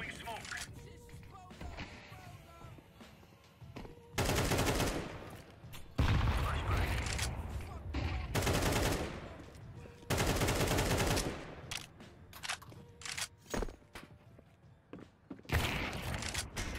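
Video game gunfire in a shooter match: bursts of rapid automatic shots in loud clusters separated by quieter stretches, with a few single cracks and faint movement in between.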